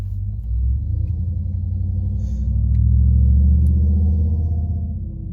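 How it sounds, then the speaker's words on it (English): A car passes outdoors as a loud, deep rumbling swell that rises to a peak midway and then fades away as it leaves. "See, it passed. The car's gone."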